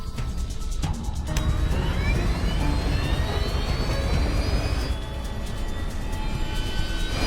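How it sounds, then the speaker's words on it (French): Jet airliner engine of TACA flight 110 spooling up as the left engine restarts at about 1500 metres, a loud steady roar with rising whine tones building and holding throughout. "À 1500 mètres du sol, le moteur gauche repart."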